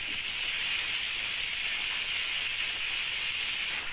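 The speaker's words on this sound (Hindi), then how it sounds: "प्याज हमारा भून रहा है।" Half a kilo of onions frying in hot ghee, a steady, even sizzling hiss that holds at the same level throughout, with no voices over it.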